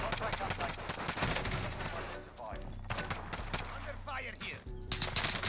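Sustained LMG machine gun fire in Call of Duty Warzone, dense and loud, rattling almost continuously with a short pause before resuming, while a voice talks faintly underneath.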